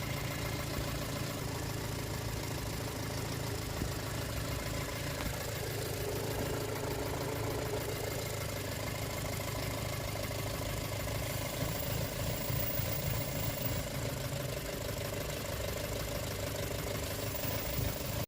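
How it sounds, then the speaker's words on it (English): A 2.0 TFSI VW Golf GTI Mk5 engine idles steadily at close range, a continuous even hum with a faint rhythmic knock running through it. "this is what a normal Mk5 GTI engine sounds like"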